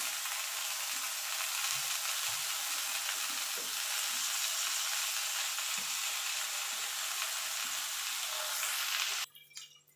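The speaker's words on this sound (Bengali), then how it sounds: "এবার এই তেলের উপরে একটা একটা করে বেগুন বসিয়ে দেবো আর বেগুন বসিয়ে গ্যাসটা একদম লো টু মিডিয়ামে রাখতে হবে যাতে বেগুনগুলো সুন্দরভাবে সিদ্ধ হয়ে যায়" Whole eggplants frying in oil on low-medium gas, a steady dense sizzle held close and even for most of the time with faint soft knocks, cutting off abruptly near the end.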